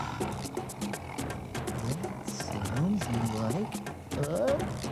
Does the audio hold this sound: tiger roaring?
yes